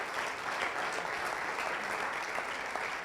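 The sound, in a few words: church congregation applause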